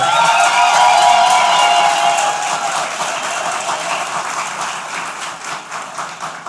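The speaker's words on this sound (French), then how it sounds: "faites vivre un peu la salle par des applaudissements" A room full of people at a diploma ceremony applauds, dense clapping that starts strong and gradually thins out and fades over several seconds.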